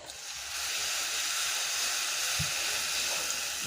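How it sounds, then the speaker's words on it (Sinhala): Water is poured into a hot frying pan of fried ingredients for a tinned salmon curry, giving a steady, close sizzling hiss that holds through the clip with no speech. "ඊපස්සේ මේකට අපි වතුර ටිකක් එකතු කරගමු"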